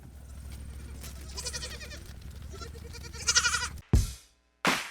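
Goats bleat near a 1977 Chevrolet Silverado in upstate New York, with several wavering calls over a steady low rumble, a louder burst toward the end, then a sharp thump and a short gap of near silence.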